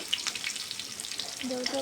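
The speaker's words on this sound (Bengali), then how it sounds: "দিয়ে দিচ্ছি ক্যাপসিকাম আমি এটা হাই হিটে ভেজে নিব" Chopped onion and capsicum frying on high heat in a pan with garlic, giving a steady close sizzle that runs throughout, with a few brief clinks near the end.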